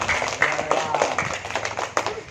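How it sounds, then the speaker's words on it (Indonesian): Children clap their hands in a school physical education lesson, a loose run of sharp claps at uneven intervals over about two seconds, fairly close, with voices talking at the same time. "bagus, tepuk tangan."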